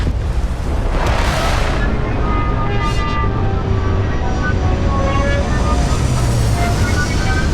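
A spaceship sets down in Starfield, a loud roaring engine rush with a whooshing surge near the start and a sustained thrusting drone throughout, with voices speaking over it.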